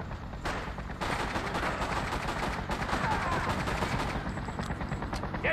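Rapid automatic gunfire crackles from the Xbox game Freedom Fighters, dense bursts of shots rattling continuously at close range against a loud battle din.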